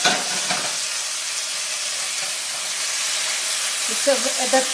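Vegetables for a Chinese beef stir fry sizzle and hiss loudly in a hot pan, a constant frying crackle with a few stirring clatters toward the end.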